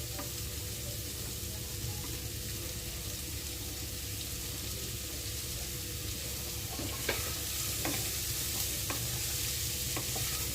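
Beetroot, carrot and potato stir-fried together in a pan for a vegetarian vegetable chop, giving a steady close sizzle with scraping stirs and a few sharper clinks toward the end; nobody speaks.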